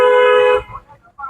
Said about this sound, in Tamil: ஹார்ன் அடிங்க.